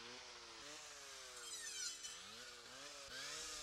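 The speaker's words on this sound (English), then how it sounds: "Cut a tree approximately 10 centimeters in diameter to waist height." A brush saw cuts through a tree about 10 centimeters in diameter at waist height, its engine droning steadily with pitch dips and swells as the blade bites into the wood, close and continuous.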